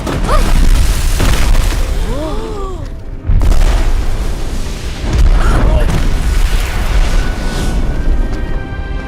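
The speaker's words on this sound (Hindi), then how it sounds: "तुम पटाखे इस्तेमाल कर रहे हो?" Firecrackers going off, a series of loud booms and bursts with rumbling echoes, interspersed with whistling rising and falling tones and brief gaps, close and dense throughout.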